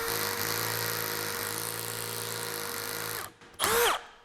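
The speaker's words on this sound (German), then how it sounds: "dann schraubt er nicht mal richtig, macht nur komische Geräusche" A cordless drill set to screw mode whirs steadily with a harmonic motor whine and slight knocking, then cuts out and gives a short, louder rattling burst near the end, with no talk.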